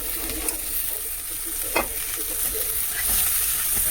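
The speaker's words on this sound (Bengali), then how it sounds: "ভালো করে সবজিটা ভেজে নিয়ে তারপরে একটু জল দিয়ে দেবে।" Potato, okra and pumpkin fry in a spiced masala in a pan, giving a continuous close sizzle with a few scraping stirs and clinks of a spoon. No voices.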